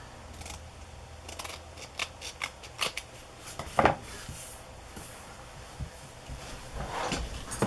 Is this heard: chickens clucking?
no